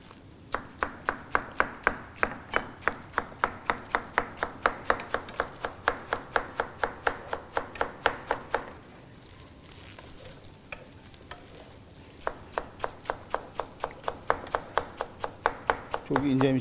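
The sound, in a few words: chopping lettuce finely with knife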